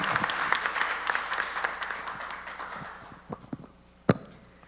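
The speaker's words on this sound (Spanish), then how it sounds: "Por favor, un fuerte aplauso." An auditorium audience at an academic forum on international relations applauds, a dense wash of clapping that thins out and fades over a few seconds, with scattered late claps and one sharp final clap near the end.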